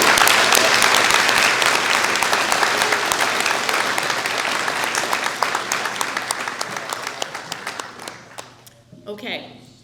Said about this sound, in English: We could clap for you all again.